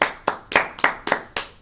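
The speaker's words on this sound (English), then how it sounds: "we're going to give a fake applause" Six sharp hand claps in a steady, evenly spaced rhythm, close and fairly loud, performed as mock applause with no other sound around them.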